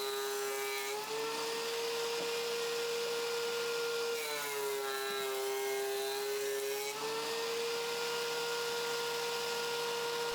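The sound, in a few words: planer running wooden bench leg assemblies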